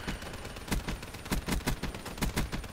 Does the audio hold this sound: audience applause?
no